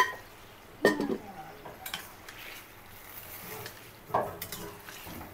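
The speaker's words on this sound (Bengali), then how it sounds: "এই যে আমার আলু ভাজিটা তেলে দেওয়া হয়ে গেলে" Potato bhaji fries in oil with a faint, steady sizzle while a utensil stirs it, leaving two distinct scraping clinks against the pan a few seconds apart.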